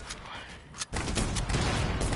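Bursts of rapid gunfire crackle loudly and continuously, a brief pause then more shooting, in a video game firefight.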